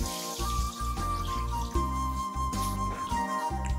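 Water pours from a tap or vessel into a pan for Maggi masala noodles, a close, steady stream with a faint ringing tone and small splashy pulses.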